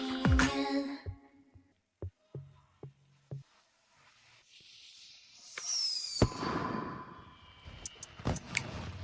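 New Year fireworks burst across the night sky: scattered sharp bangs and pops, a rising whistle of a rocket, then a dense crackling shower, heard at a moderate distance with no voices.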